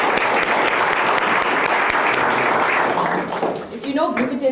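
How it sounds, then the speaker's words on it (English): Loud, dense audience applause at a corporate celebration event, a continuous wash of clapping that thins toward the end as voices begin to come through. "Let's give him a round of applause."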